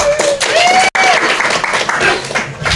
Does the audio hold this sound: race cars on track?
no